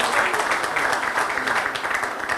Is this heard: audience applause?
yes